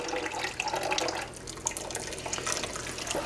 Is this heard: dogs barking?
no